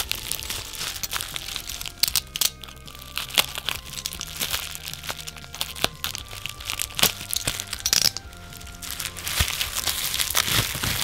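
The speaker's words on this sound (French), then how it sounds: "petit papier bulle rouge." Red bubble wrap packaging is unwrapped from a small parcel, giving dense, continuous crinkling, crackling and tearing close to the microphone, with no talking.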